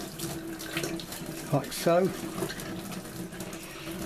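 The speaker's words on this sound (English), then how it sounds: "try and get the water along the join" Tap water trickles along the join of a foam glider wing, a running-water hiss with brief splashes and gurgles as the flow shifts, while a person speaks briefly.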